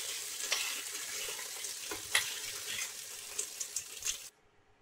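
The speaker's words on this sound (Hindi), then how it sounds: "अब हम इसके अंदर अपना चना डाल देंगे।" Overnight-soaked chickpeas go into hot oil with fried chilies and are stirred in a pan, giving a steady bright sizzle with scraping spoon strokes and small clinks, close and continuous before stopping abruptly.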